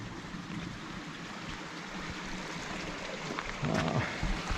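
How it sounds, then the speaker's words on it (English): A small stream runs along a forest trail, a steady close gurgle and trickle of water with a brief brighter splash near the end, no voices over it. "I love these little streams."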